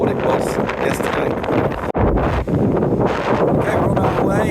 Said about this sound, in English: It's very windy, but the wind's about half what it was yesterday.